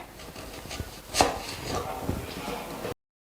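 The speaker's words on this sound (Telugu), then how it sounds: "ముందుగా ఉల్లిపాయ కట్ చేసుకుందాం" Onions chopped with a knife on a board, a handful of close, irregular cutting knocks with one louder chop about a third of the way in, stopping abruptly before the end.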